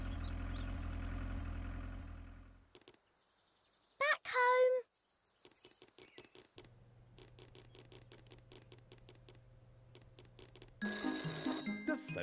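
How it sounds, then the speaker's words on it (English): A telephone rings inside a house in the Peppa Pig cartoon, with a repeated bright electronic trill that sounds in short bursts. An engine idles and fades before it, and brief high chirps come between. "Phone is ringing."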